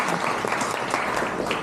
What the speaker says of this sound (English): we need applause for everybody present here.